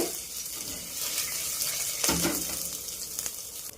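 Chopped ginger and onion frying in a few spoons of oil with popped mustard seeds, a quiet sizzle with a louder burst of hissing midway as more goes into the pan, close and without talk.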